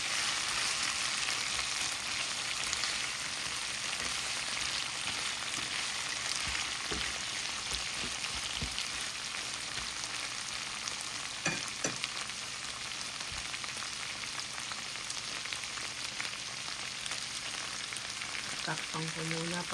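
Shrimp sizzle and fry in a pan for pinakbet, a steady, quiet crackling hiss running the whole time with a few scattered pops, no talking.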